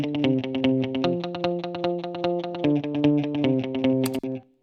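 Electric guitar playing a steady, rapid run of picked notes through a delay effect, the repeats blending into a continuous rhythmic pulse, loud and close with no voices.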